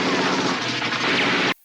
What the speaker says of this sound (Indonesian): Dan aksi tembak-tembakan pun tak terhindarkan.